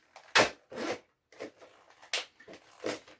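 Plastic packaging on supermarket lahmacun being torn and pulled open by hand, a string of close crinkling rips and rustles in short uneven bursts with quiet gaps between.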